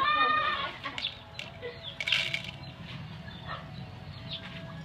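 Chickens cluck faintly against a steady outdoor background hiss, with a few clearer calls near the start.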